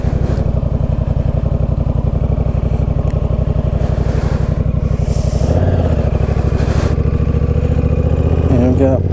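A Honda Rebel 1100 motorcycle engine runs steadily up close with a continuous low rumble, while a person talks over it.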